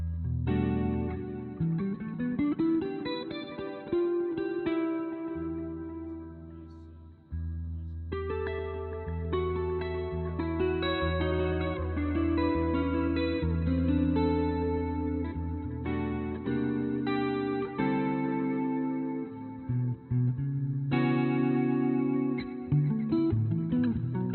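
A clean electric guitar through a Roland JC-120 amp plays chords and melodic lines drenched in TC Electronic Flashback delay and spacious reverb, notes trailing and overlapping.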